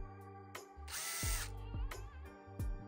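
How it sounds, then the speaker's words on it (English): Power drill boring a pilot hole into a resin lightsaber part, with short whirring bursts and a longer high-pitched run in the middle, close up and with no talking. "So I'm gonna use a pilot hole first. And then I'm going to use the drill bit for the screws."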